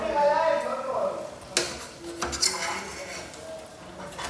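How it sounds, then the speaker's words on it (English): An egg flipped in a frying pan, with metal pan clatter and a couple of sharp knocks and scrapes against the stovetop, close by, while a person talks early on. "I managed to flip it. Egg flip."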